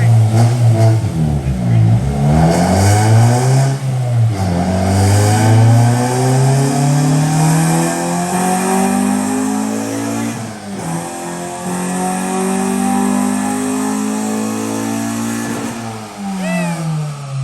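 A car accelerates hard through second and third gear, its engine climbing loudly in pitch with a drop at each shift, close and dominant, with occasional voices in the cabin.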